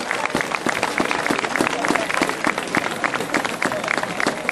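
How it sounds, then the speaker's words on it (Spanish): Audience applause at a live event, a dense, steady burst of clapping from many hands lasting several seconds, fairly close and with no gaps. "Muy bien, un aplauso."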